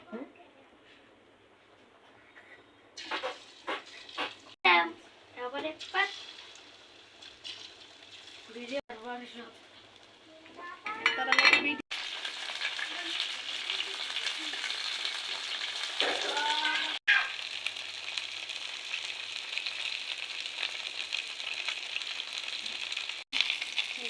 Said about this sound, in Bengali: এই চিকেনগুলো ভাজতেছি, এগুলো আমি ফ্রাই করে দিব আমার ছেলে মেয়েকে।